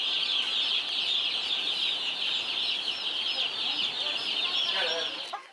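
A crowd of young chickens at a market in Changuinola, Panama, keeps up a continuous high chorus of peeping and clucking close by, steady and dense from start to finish.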